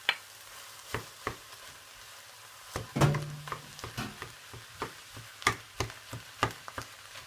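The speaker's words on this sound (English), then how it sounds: "I once again turn the heat up and put in all the minced meat" Minced meat frying in a hot pan, soft sizzling under repeated sharp scraping and tapping of a utensil in irregular rhythm, close by and without talk.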